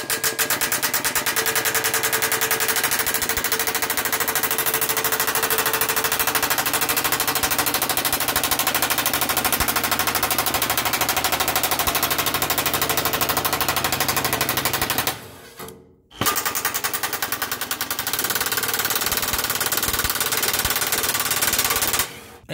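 Rapid, continuous rattling hammering of an impact gun loosening bolts on a 2006 Subaru B9 Tribeca during a centre driveshaft replacement. It is loud and close, running almost unbroken apart from one short pause midway.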